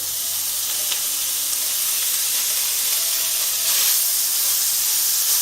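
Bacon sizzles and crackles steadily in a hot pan, a continuous bright hiss with small pops, swelling slightly near the end.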